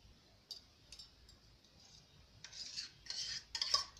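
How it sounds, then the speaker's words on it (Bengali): A spoon stirring ghee into khichuri in a pot during village-style cooking, with faint, sparse metal scrapes and clinks that grow busier toward the end, quiet and close, with no talking. "ঘিটা মিশিয়ে নিচ্ছি"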